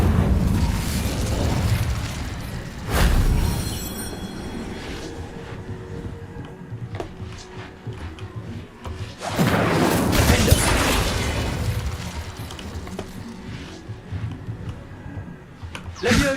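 An Incendio fire spell cast in the game Hogwarts Legacy: a loud burst and whoosh of flame, then a rumbling, crackling stretch, with a second forceful blast and roar of fire midway.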